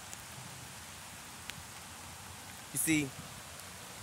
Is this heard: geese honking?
no